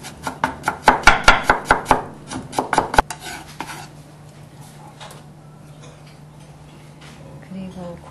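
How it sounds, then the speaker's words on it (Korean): A knife rapidly julienning pumpkin on a cutting board, about a dozen quick close chops in a steady rhythm, then stopping as quieter handling sounds follow and a voice speaks. "길이가 4cm가 되도록 채를 곱게 썰어주세요."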